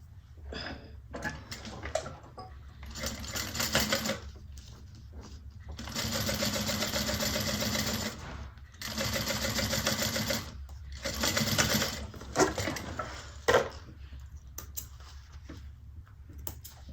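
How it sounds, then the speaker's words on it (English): A sewing machine top stitches along a handbag seam in several separate runs, each a loud, steady mechanical whir lasting a few seconds with short pauses between them, heard up close and without talk. "So you're top stitching through the top."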